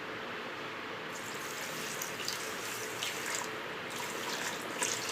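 Water poured steadily onto sugar in a pan while making laddu syrup, a continuous close hiss and splash with small liquid gurgles, no voices present.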